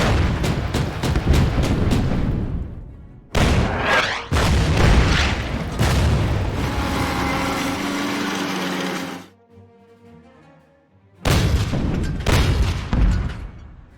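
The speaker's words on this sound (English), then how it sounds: "those anti-aircraft guns are shooting me up" Anti-aircraft guns fire in the WWII strategy game Order of Battle: loud rapid bursts of booming shots in quick succession, pausing briefly between volleys, with one quieter gap before firing resumes.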